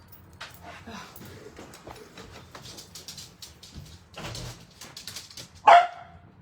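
A frightened dog indoors during a thunderstorm gives one sharp, loud bark near the end, after several seconds of quiet shuffling and movement.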